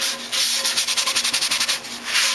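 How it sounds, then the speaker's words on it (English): Coarse kosher salt rubbed around a cast iron pan makes a close, gritty scrubbing, about a dozen quick rhythmic back-and-forth strokes framed by longer scrapes. "we've got some kosher salt in the pan. Best thing to do is to just rub it around."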